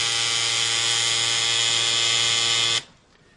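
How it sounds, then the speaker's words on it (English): A tattoo machine buzzes steadily and loudly for almost three seconds with a bright, even electric whine, then cuts off abruptly, leaving near-silence. "If you'll notice the angle that I have the tattoo machine itself,"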